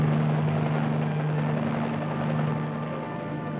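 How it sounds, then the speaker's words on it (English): Helicopter landing on an icebreaker in Arctic waters, a steady loud rotor and engine drone with a strong low hum, continuous and close throughout. "When a helicopter comes in for a landing,"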